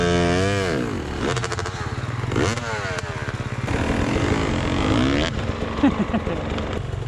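A motorcycle engine revs and bogs repeatedly during motoball training with a canister, rising and falling whines at close range, rough idle between the revs.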